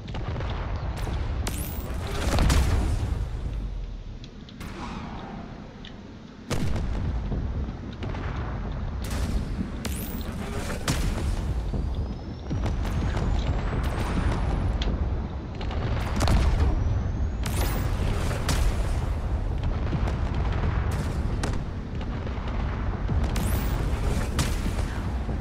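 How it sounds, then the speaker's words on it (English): Railgun fire strikes a frigate during a space battle in a video game, a dense run of loud booming and cracking impacts, some sharp and some rumbling, recurring throughout with no pause. "this frigate here, which is taking quite a bit of railgun"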